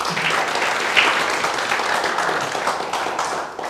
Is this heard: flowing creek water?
no